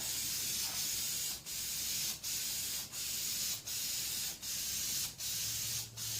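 Spray gun applies Iron Armor truck bed liner to a Geo Tracker hood as a steady, loud hiss broken by short regular pauses, about eight bursts in a row.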